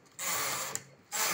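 Knitting machine carriage running plain rows for a designer sweater border, set at tension 6: two bursts of close mechanical whirring and ratcheting, a long sweep then a shorter one, with no talking.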